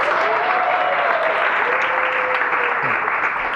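Steady applause from a large audience at a tech startup event, continuous dense clapping filling the room for several seconds, with faint voices and a whistle-like tone threading through.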